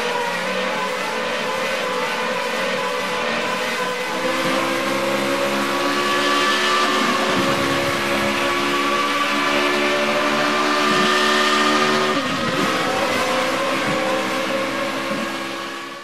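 A Formula Renault open-wheel race car in the rFactor 2 racing simulator screams at high revs, a loud sustained engine whine rising and shifting pitch through gear changes with no talk over it.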